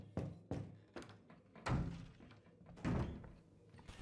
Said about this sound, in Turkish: Hadi kapıyı açıyoruz.